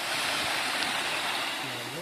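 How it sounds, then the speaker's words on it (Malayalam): A small stream in rural Kerala rushes and gurgles nearby, a dense, steady wash of flowing water that fills the whole moment. "അവിടെ ഒരു തോടുണ്ട്. തോട് കാണാൻ വേണ്ടി ഇറങ്ങിയിരിക്കുക."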